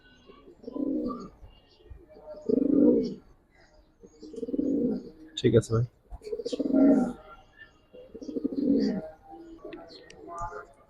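Giribaz silver pankhi pigeons coo nearby in a series of about five low, throaty, rolling coos spaced a second or two apart, with a man's brief speech and faint background chatter between them.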